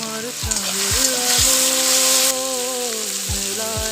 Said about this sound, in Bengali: তেল গরম হয়েছে দিয়ে দেবো তেজপাতা জিরে ধইনে আর সবগুলো উপকরণই দিয়ে দিব ঢেলে দিয়ে দেবো হলুদ গুঁড়ো